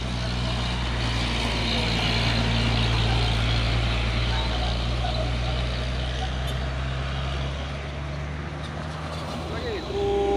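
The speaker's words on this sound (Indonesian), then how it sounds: "Lagi truk tangki CPO pemain Hino Lohan." A Hino CPO tanker truck roars past on the road with a loud, steady engine drone and a sustained tonal whine, close by throughout the whole stretch, while a voice talks over it.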